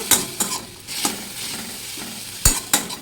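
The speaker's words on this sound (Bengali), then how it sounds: "এখানে হচ্ছে মূলোর শাক একটু ভেজে নেব" Radish greens frying in a pan after onions and carom seeds, with scraping stirs and clinks of a utensil over a low sizzle, several sharp strikes spaced across the moment.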